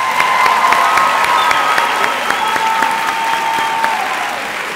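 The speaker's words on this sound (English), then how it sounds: "Please give Gospel Choir one more round of applause." A crowd applauds steadily at a 2018 high school graduation ceremony for a gospel choir, dense sustained clapping with some cheers and a few whistles, loud and fairly close, fading slightly near the end.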